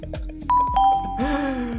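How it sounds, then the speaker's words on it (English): A livestream follower alert plays a bright bell chime, two rising ding tones followed by a sustained ringing tone, loud and clear over soft background game sounds. "Stop with the bell. The annoying bell. The annoying bell."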